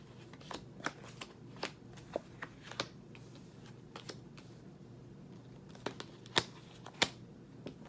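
Tarot cards being shuffled by hand, a soft run of quick papery riffles and crisp snaps scattered irregularly over a quiet room hum, close and faint, with no talking.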